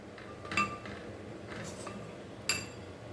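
A spoon mixes spice paste with oil in a bowl for Chettinad-style raw banana fry, with soft scraping and two sharper clinks against the bowl, faint and close.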